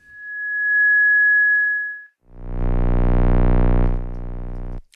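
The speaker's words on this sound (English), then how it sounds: "Then here you have electrical noise." Electrical noise from the Artifacts lofi processor plugin: a steady high whine fades in and drops out, then a low buzzing hum with rich harmonics rises and holds until the end.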